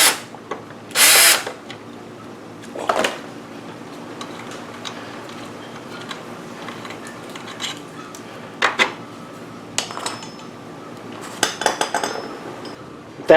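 A ratcheting tool backs out an 8mm bolt on a GY6 scooter's kickstarter, with a loud burst early on, then scattered metallic clicks and clinks of tool and bolt against a quiet background.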